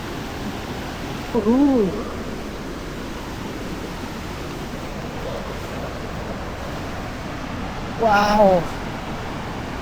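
A waterfall roars nearby at a campsite in an unbroken, even wash of rushing water. Two short excited exclamations from a voice break in over the steady noise.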